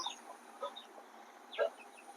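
Faint, high chick peeps and a few soft hen clucks come in scattered bursts against a quiet background.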